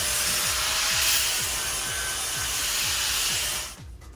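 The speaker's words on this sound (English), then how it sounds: "I used the angle grinder flap disc to clean up the cuts" An angle grinder with a flap disc smooths plasma-cut steel edges on legs for a CNC table, making a loud abrasive whir with rhythmic sweeping passes about three per second. It stops abruptly near the end.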